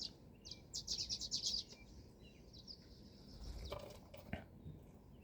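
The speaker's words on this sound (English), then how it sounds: "the birds are certainly having fun, aren't they?" Outdoor birds chirp and sing in quick high bursts over a steady low background hum, moderately near, with a few scattered calls later and no talking.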